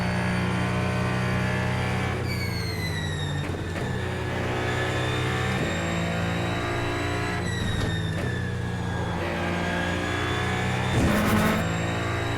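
Ferrari 499P race car in iRacing, engine droning at high revs with rising and falling pitch through gear shifts, loud and continuous with brief tire scrub, no voices.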